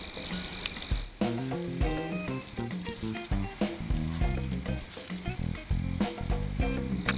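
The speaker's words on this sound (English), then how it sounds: "This is what I want to see, just kind of bubbling away." Crab cakes sizzle and bubble in butter on a small outdoor griddle, a steady loud frying crackle with scattered pops throughout and no talking.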